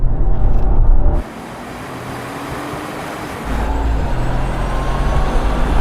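A Tesla Cybertruck and a Mercedes-AMG G63 accelerate side by side in a drag race from a 30 mph rolling start, a loud close engine and road roar that dips briefly, then swells again.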